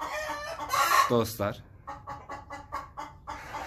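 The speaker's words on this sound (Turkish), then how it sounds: "Bakın bu da horozumuz" A Leghorn rooster crows once loudly nearby, followed by a run of rhythmic clucks from farm fowl, with a person speaking briefly over the calls.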